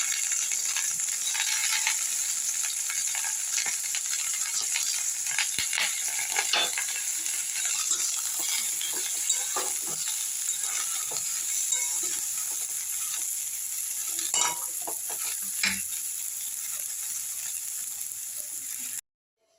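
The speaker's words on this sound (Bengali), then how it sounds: "ফুলকপিগুলো দিয়ে লাল করে ভেজে নেবো এখানে আমি।" Cauliflower florets fry in a kadai, a faint, even sizzle running throughout with scattered small crackles and pops, ending abruptly.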